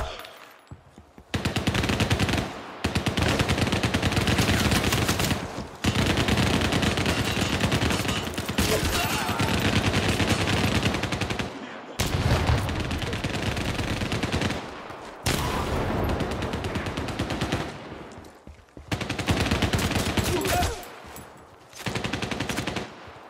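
Bursts of rapid video game gunfire in CrossfireX, loud and close, come in several long volleys with short silent gaps between them.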